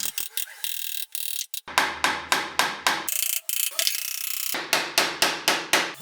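Nails are hammered through wooden slats to join them into a panel for an industrial-style table, with quick, evenly spaced sharp strikes in several runs, loud and close, with brief pauses between runs.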